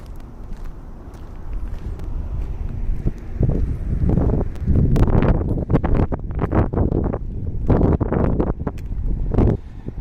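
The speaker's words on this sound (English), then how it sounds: "It is pretty windy." Gusty wind by a river in the Todoroki Ravine area of Tokyo buffets the microphone in loud, uneven bursts, rumbling and flapping over faint background noise.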